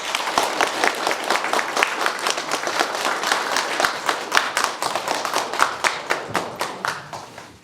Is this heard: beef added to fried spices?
no